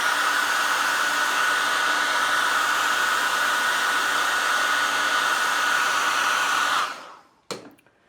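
A hair dryer drying a watercolor painting blows with a loud, steady roar for about seven seconds, then switches off and winds down, followed by a short click.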